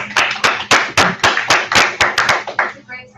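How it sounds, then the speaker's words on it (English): Clapping from a small group at a startup pitch class, about a dozen distinct claps in a steady rhythm, fairly loud and close, fading out at the end. "Give John a hand of applause."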